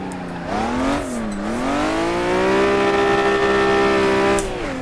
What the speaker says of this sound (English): Went for the downshift.